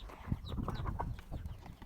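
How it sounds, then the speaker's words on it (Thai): Farm-raised chickens kept in a pen beside a rice field give a few soft, scattered clucks, faint and a little distant over quiet outdoor background. "อันนี้ก็คือไก่ที่เลี้ยงค่ะ"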